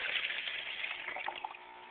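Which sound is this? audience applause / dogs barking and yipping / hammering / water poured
water poured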